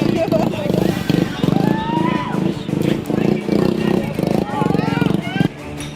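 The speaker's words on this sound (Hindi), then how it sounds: "बाइक को गोल गोल नचाते नौजवान" Motorcycles ridden in tight circles by young stunt riders on Ranchi's Ring Road, engines revving and surging continuously with rising and falling pitch sweeps, amid crowd chatter and voices.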